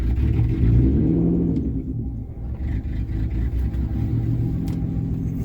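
A manual transmission car pulls away in first gear, its engine rumbling low and close as revs rise, dip briefly and build again, with no talk over it.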